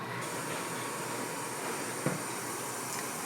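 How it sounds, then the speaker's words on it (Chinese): Water with braised pork belly coming to a boil in a pot on a stove, heard as a steady, even rushing hiss throughout with one faint click midway. "这个水已经开了"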